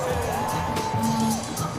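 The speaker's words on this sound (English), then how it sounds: "Give yourselves a round of applause" A stadium crowd at Victory Field in Indianapolis cheers and whoops at a baseball game, a broad sustained roar with shouts rising over it and a voice singing a held note.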